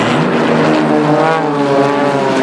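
Three aerobatic team propeller planes fly in tight formation at the 2010 Kraków air show in Poland, their engines a loud, sustained droning roar whose pitch shifts slowly as they pass close by.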